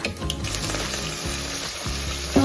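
Onion frying in hot oil after cumin in a home kitchen, a loud close continuous sizzle with stirring scrapes throughout.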